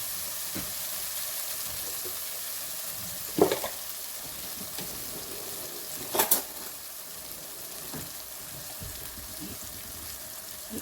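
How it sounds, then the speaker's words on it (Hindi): Masala and a spoonful of yogurt frying for a kofte aloo gravy, a steady low sizzle with occasional stirring scrapes, two brief louder clatters partway through, no talking. "बस अब इसको इसी तरह से हम भूनेंगे तकरीबन 2-4 मिनट तक ताकि मसाला जो है वो सही तरह से भुन जाए"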